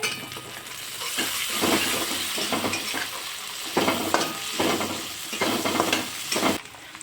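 Peas and capsicum tossed and stirred in a hot pan for Surti tawa pulao, a steady sizzle broken by repeated scraping strokes of a spoon at close range, with no talk.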